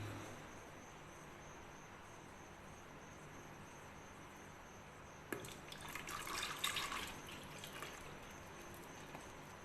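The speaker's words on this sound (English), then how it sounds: "And now I will pour this liquid back here again slowly." Liquid ballistic gel is poured slowly into a mold, first as a faint steady trickle and then as a louder splashing stream partway through, quiet overall with no speech.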